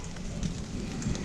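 Steady rain falls outdoors around a house, a dense even patter of drops with no voices, moderately quiet throughout.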